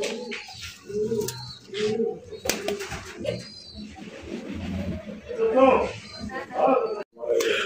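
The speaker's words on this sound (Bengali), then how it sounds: "বিশাল বড় সাইজে একটা কালারিং রাসগোল্লা কবুতর দেখতেই পাচ্ছেন" A large red rasgulla pigeon coos in soft, low, repeated bursts up close while someone talks over and between the calls.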